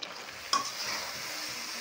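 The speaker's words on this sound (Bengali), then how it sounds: "এই দেখুন বন্ধুরা নাড়তে নাড়তে একদম শুকিয়ে গেছে" Sandesh mixture is stirred in a pan until dry, with a low continuous sizzle and one sharp scrape of the spatula partway through.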